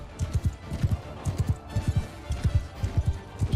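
Rhythmic thudding hoofbeats of a horse galloping in Mount & Blade II: Bannerlord, fast repeating pairs of muffled clops, close and steady throughout with a faint background wash.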